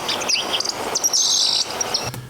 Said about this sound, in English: this is the bird calls from before.